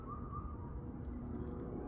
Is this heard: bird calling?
yes